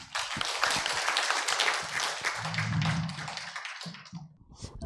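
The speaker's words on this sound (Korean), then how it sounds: "큰 환영의 박수 부탁을 드립니다" A small audience at a Korean tea culture academic symposium claps to welcome Professor Park Dong-chun: light, uneven clapping from a few hands, close by, with a brief low murmur partway through, trailing off into scattered claps.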